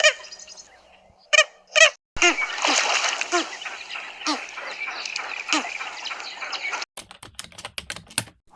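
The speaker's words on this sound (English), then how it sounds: "Medium 5, red-knobbed coot." A red-knobbed coot gives short honking and clicking calls in a wetland, with sharp bursts and a run of rapid clicks near the end.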